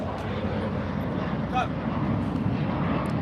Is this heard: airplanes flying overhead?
yes